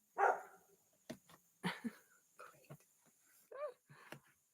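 A dog barks outdoors in a run of short, sharp barks and yips with gaps between them, fairly faint and set back from the microphone.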